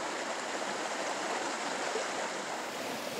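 Contaminated groundwater, pumped out, pours into a small stream and gives a steady rushing, splashing flow. The sound stays constant and moderately quiet throughout, with no talk.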